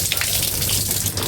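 Running water splashes and patters steadily close by, a dense hissing gush like a tap or small stream that fills the whole short moment.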